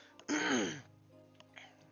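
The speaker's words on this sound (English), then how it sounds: "hopefully I don't have to clear my throat too much" A single throat clear, a short rough burst near the mic, followed by quiet breathy sounds.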